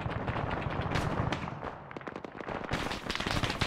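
Rapid bursts of video game gunfire, machine-gun style, crackle densely and loudly with no pauses, a near continuous stream of shots layered over one another.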